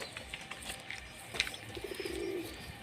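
Pigeons at a sale coo softly in the background, low murmuring calls with a few faint chirps and wing rustles, quiet and somewhat distant.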